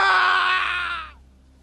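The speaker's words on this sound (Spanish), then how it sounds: "el loco susurro del viejo se convirtió en un alarido inhumano que helaba la sangre" An old man's inhuman, blood-chilling scream rings out loud and harsh for about a second, then cuts off abruptly into quiet room tone.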